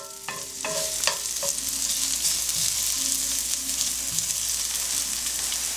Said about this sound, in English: Now that the onions are sauteed